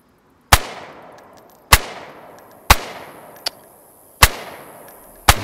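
Loud single gunshots ring out in a DayZ firefight, five sharp cracks spaced about a second apart, each with a decaying echo tail, plus one fainter click between them.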